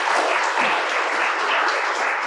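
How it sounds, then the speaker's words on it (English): An audience applauding at a civic gathering honoring a former Common Cause board chair, a dense, steady wash of clapping from many hands, loud and unbroken. "Mindy, please, round of applause."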